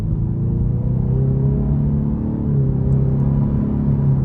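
A 2026 Ford Mustang EcoBoost pulling away from a stop, heard from inside the cabin as a steady low engine rumble and drone with a faintly rising tone, loud and continuous throughout with no talking.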